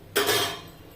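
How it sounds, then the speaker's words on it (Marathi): A lid set onto a pot of carrot halwa cooking on the stove, one quick metallic clink that rings briefly and fades. "त्याच्यावर झाकण ठेवते मी आणि शिजू देते"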